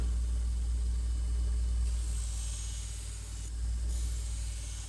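A belt grinder thins a Shun kitchen knife, running with a steady low motor drone and a continuous abrasive hiss that shifts slightly in intensity as the blade is passed along the belt, close and without talking.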